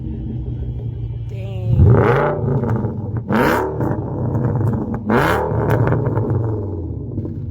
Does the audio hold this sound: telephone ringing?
no